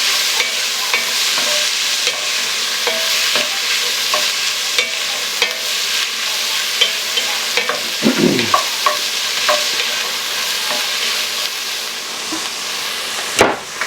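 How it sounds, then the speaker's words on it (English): Onions and celery sizzle steadily in rendered fat in a pot for New England style clam chowder, a constant bright frying hiss with occasional stirring scrapes and clinks of a spoon. "Get our veggies in, onions and celery on in"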